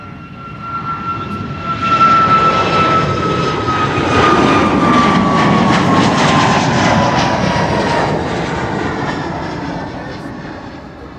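A jet airliner takes off from runway 24 (Kaagbaan) at Amsterdam Schiphol, a loud sustained engine roar with a whining tone that swells and then slowly fades as it passes.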